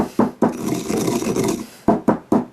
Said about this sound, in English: it's easy to give it a nice little grind once the bits are a little bit smaller